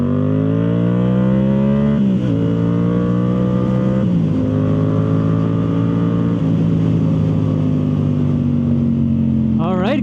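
Yamaha YZF R7 motorcycle fitted with a Yoshimura full exhaust, riding with a strong, continuous engine drone that shifts pitch through gear changes and throttle, loud and close throughout.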